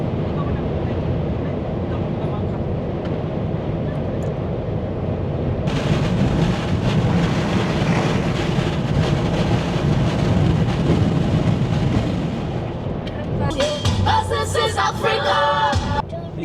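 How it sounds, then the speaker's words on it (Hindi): Very strong wind roars steadily across the microphone throughout, on the road approaching Algeciras, Spain, gusting harder partway through, with a rumbling engine-like drone beneath and some faint talk. "मैंने इतनी ज़्यादा तेज़ हवा मैंने आज तक नहीं फेस की"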